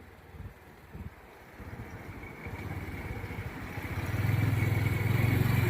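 A vehicle engine rising steadily in pitch and loudness with wind noise as it drives around the roundabout by the city pillar shrine in Kantharalak, Sisaket province, Thailand.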